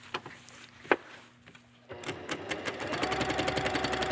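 Sewing machine stitching silk for needle felting, starting with a few isolated clicks and taps, then running into a fast, rhythmic mechanical whir that builds steadily in speed and loudness, close up and alone.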